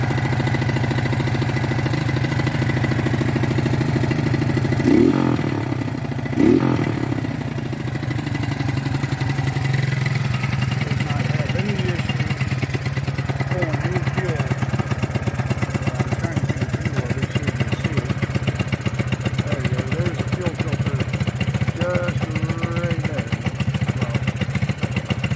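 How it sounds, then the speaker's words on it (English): A Suzuki King Quad 300 4x4 ATV engine idles steadily after repairs, holding a smooth, even putter close by throughout, with a couple of brief louder bumps early on. "Starts right up, holds a good idle."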